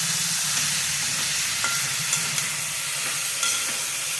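Spinach curry with potato, eggplant and cauliflower cooks in a pan, giving a steady close sizzle and hiss with occasional soft stirring scrapes and no talking.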